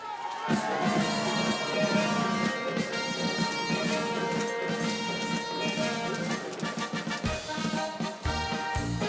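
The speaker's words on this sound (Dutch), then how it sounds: "Geef ze een groot applaus." At a carnival society sitting, a crowd cheers and shouts for the winning group while lively music with a brass band plays loudly throughout, the voices of adults and children mixed into the din.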